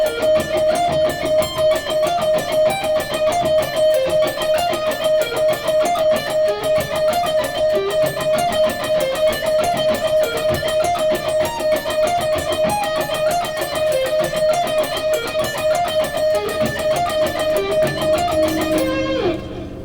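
A distorted electric guitar runs a fast pedal point lick, repeating notes in a steady, even rhythm over a held tone for the full length before fading out, loud and unaccompanied.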